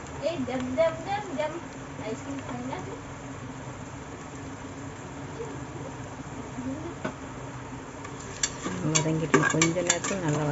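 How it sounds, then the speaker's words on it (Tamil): Potato and green chili cook in a pan with soft, intermittent stirring scrapes and a faint sizzle. A person talks over them, and clattering stirs near the end. "வதங்கிட்டு கொஞ்ச நேரத்தில் நல்லா வதங்கிடும்."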